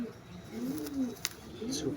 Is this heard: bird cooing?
yes